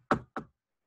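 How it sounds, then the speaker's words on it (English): Two quick, solid knocks on a door, close and crisp, spaced about a quarter second apart, followed by silence. "Principal Lin knocked on Mrs. Penna's door."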